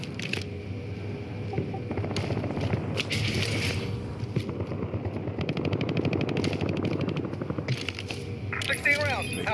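Rapid automatic gunfire from the Warzone video game rattles almost continuously in close, loud bursts, with mechanical clicks mixed in and a voice talking over the shooting.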